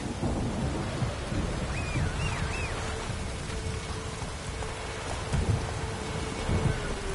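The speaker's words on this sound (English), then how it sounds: "Lightning strike." Steady rain with low rumbling thunder from a lightning strike in The Witcher 3 plays continuously, with a brief bird-like whistle partway through and no speech over it.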